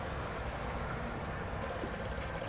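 A telephone rings in the horror video game Amnesia: A Machine For Pigs, a steady high electronic ringing tone entering partway through over a dense, rumbling game ambience.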